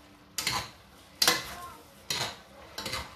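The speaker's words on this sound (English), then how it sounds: "Then mix it very well." A utensil stirs French cream into a shrimp and broccoli spaghetti sauce in a pot, four separate scraping, clinking strokes at an even pace, moderately close and fairly quiet.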